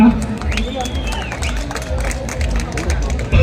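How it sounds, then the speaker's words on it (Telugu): A crowd at a youth-organised cultural programme claps in a rapid, uneven burst under steady speech and murmuring, with the hubbub fairly loud and continuous. "క్లాప్స్"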